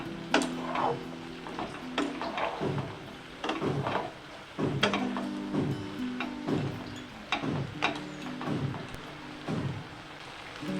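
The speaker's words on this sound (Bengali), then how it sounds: "লাউটা কেটে নেব ঠিক এইভাবে পাতলা পাতলা করে" Knife slicing bottle gourd thinly on a cutting board, with sharp repeated cuts in an uneven rhythm, close and clear with no talk.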